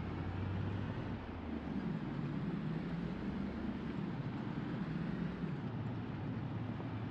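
A car engine drones steadily while driving in Project Zomboid, a continuous low rumble with a shifting pitch that holds at an even loudness the whole time, with no talking over it.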